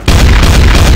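Counter-Strike: Source grenade detonation, an abrupt loud boom that starts after a brief quiet moment and then sustains as a dense, rumbling roar to the end.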